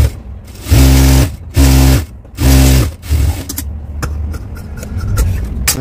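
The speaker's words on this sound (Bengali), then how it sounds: "আমি একটা মাঝখানে সোজা একটা সেলাই দিয়ে নিয়েছি" A sewing machine runs a straight seam down the middle of fabric for a kameez neckline, in three loud, steady bursts with short pauses, followed by quieter clicks and handling.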